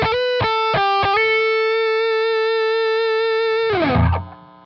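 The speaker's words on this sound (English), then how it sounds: "We're going to add turbo distortion." A heavily distorted electric guitar through a turbo distortion pedal strikes a few short chords, then holds one long sustained note before it bends downward and fades out.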